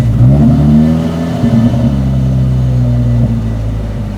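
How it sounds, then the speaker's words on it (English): A race car engine runs loud and close at idle, a deep throbbing rumble with steady low harmonics and slight wavering in pitch, alone without any voices. "start it so I can hear it idle"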